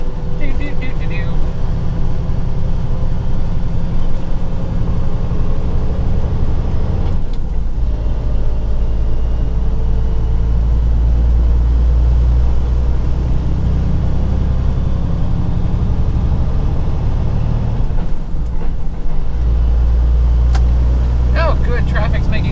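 Cars and trucks pass on a road heard from inside a moving vehicle, a loud, steady engine and road rumble with low swells as heavier vehicles go by.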